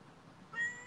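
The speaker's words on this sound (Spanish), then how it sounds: "¡Miau!" A single short cat meow rising out of quiet background noise, heard indoors and fairly faint, with no one talking over it.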